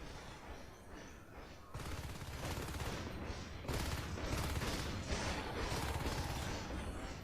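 Rapid sustained gunfire rattles through a Natural Selection 2 match, with dense overlapping shots and mechanical clatter filling the whole stretch at steady loudness.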